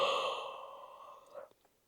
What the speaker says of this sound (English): Let me yawn.